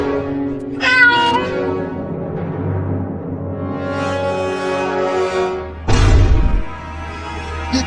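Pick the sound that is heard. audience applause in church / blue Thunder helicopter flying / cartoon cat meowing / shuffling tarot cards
cartoon cat meowing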